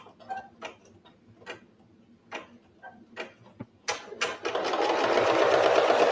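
An embroidery machine stitches a design with scattered mechanical ticks and clicks at first, then settles into a loud, continuous rapid whirring chatter of needle strokes.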